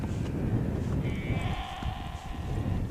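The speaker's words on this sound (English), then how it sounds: "Oh, those sheep. I reckon they're wanting some food, perhaps. They're lowing and groaning." Sheep bleating in a rural field, a drawn-out bleat rising over steady wind and rustling noise, heard at moderate distance with no talk.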